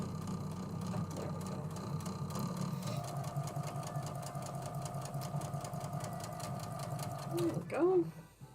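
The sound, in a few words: sewing machine sewing fabric triangles together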